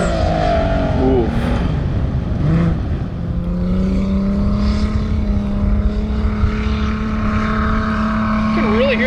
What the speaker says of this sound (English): you can really hear the turbo